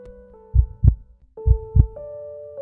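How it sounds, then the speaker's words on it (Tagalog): A heartbeat sound effect in an audio drama gives two paired thumps, loud and close, each over a sustained tonal music drone, with no speech. "kasabay ng parang paglakas ng kabog ng kanyang dibdib"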